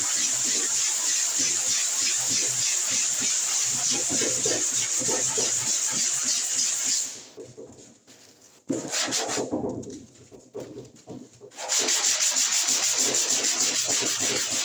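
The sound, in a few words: hand sanding body filler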